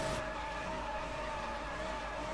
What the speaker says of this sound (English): there's the skidding event. Which basically you just have to try and do what they call donuts